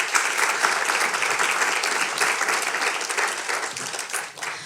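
A comedy show audience breaks into loud, dense applause, a continuous burst of many hands clapping that tapers slightly near the end.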